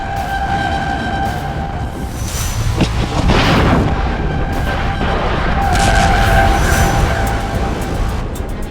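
A Russian military rocket launch in the Russia–Ukraine war roars as one long, loud, sustained blast with rumbling artillery booms, rising in the middle and continuing without any talk.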